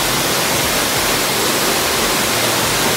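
Tat waterfall in a forest pours with a loud, continuous rushing roar, an even wash of water noise with no breaks and no voices.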